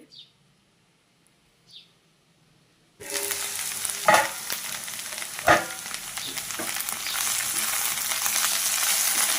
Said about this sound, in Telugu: ఈ దొండకాయ ముక్కల్ని వేసుకొని మంచిగా ఫ్రై చేసుకోవాలి